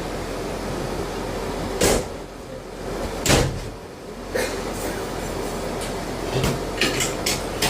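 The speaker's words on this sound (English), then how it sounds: "Go for a driver to open the doors" Doors of a former London Underground train on the Isle of Wight open with a few distinct clunks and thumps over a steady hum of the stationary carriage.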